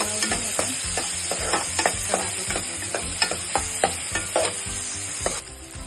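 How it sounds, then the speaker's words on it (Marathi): Onions frying in oil in a pot for stuffed brinjal hiss steadily, with a spoon scraping and stirring in regular close strokes before the sizzle drops lower near the end. "तर आपण प्रथम कांदे फ्राय करून घेऊया"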